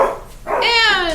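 Pet dogs running outside give a sharp bark followed by a rising whining yip, close and clear, with a person talking nearby.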